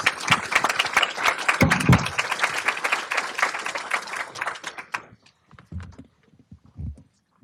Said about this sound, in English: So let's give the panelists a round of applause.